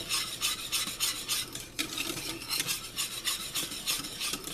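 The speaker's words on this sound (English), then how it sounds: "stir, stir, stir, because you want your pie to be creamy and not gritty" A spoon stirs banana cream pie pudding filling in a pot over low heat, making steady rhythmic scraping and rubbing strokes against the pot, close and clear with no talking.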